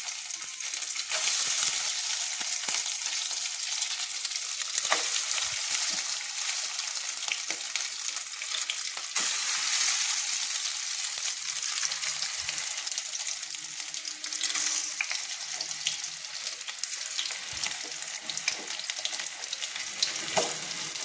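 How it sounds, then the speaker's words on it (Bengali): Marinated chicken pieces frying in hot oil over a medium flame, a steady, dense sizzle that carries on throughout with small crackles and occasional light clinks, heard close with no talking. "এইভাবে একটা একটা চিকেনের পিসগুলো দিয়ে আমি ভেজে নেব"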